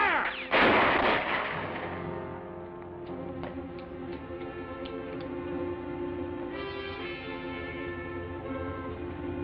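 Gunfire from a 1950 western film: one sharp loud shot opens, followed by a ringing, echoing tail and a scattering of fainter distant pops and ticks over a lingering hum, with no speech.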